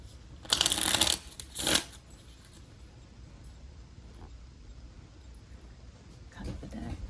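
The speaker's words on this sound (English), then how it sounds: "Cut the deck." A deck of oracle cards is riffled and shuffled in two quick bursts near the start, close and crisp, followed by a quiet room and a faint rustle of handling near the end; no talking.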